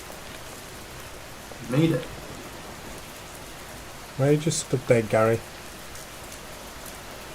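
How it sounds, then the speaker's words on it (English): Steady, even rain falls in a video game, a constant wash of patter that runs beneath two short bursts of nearby talk. "oh my god, it's raining."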